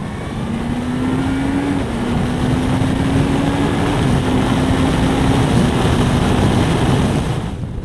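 A Honda CBF 1000 motorcycle accelerates hard in top gear on the road, its engine a steady droning note that climbs in pitch over heavy wind rush, loud and sustained.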